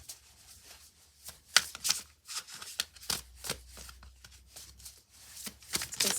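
Tarot cards being shuffled and riffled by hand, a rapid run of crisp flicking and slapping bursts, close and fairly loud, with no talking over them.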